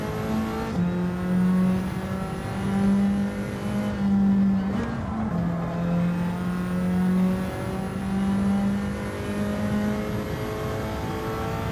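A race car engine in Gran Turismo 7, heard close and loud, revving and holding steady tones with repeated shifts up and down in pitch across the whole stretch.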